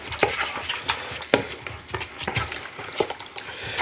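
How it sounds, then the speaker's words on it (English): Chicken drumsticks being tossed and stirred in a bowl to coat them, repeated wet knocks and clattering thumps of utensil against bowl in an uneven rhythm, close and fairly loud. "get it all mixed in there. Make sure it's coated pretty good"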